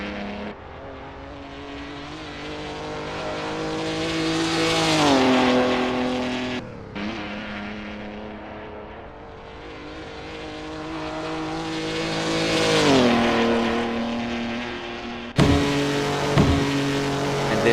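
A historic race car at Monza 1966 in Assetto Corsa: the engine revs rise and fall through gear changes in long pulls, steady and fairly close, with a sharp shift near the end.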